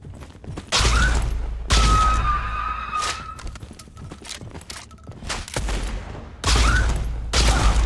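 Gunshots in the video game Blood West, several loud sharp blasts with ringing tails recurring across the stretch, mixed with clattering and metallic game sounds, no voices.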